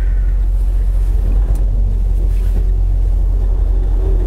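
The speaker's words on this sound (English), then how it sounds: "listening to the engine noise and when it's shifted or shifting" A car engine runs at a steady, loud low rumble close by, a continuous drone with faint shifts in pitch as gears change, and no voices.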